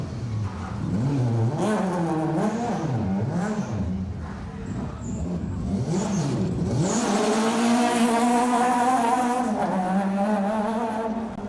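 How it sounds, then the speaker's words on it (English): A Citroen Saxo Super 1600 rally car roars past close by on an asphalt stage, engine revving hard with rising and falling pitch, then accelerating away loudly with a steady high drone. "here's our Citroen Saxo Super 1600."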